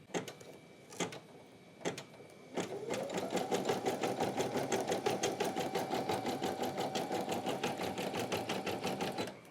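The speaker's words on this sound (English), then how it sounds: "we are ready to embroider" A computerized embroidery machine stitches a design into sample fabric, starting with a few separate clunks before settling into a fast, steady, rhythmic whir of needle strokes with a constant motor hum, close and fairly loud.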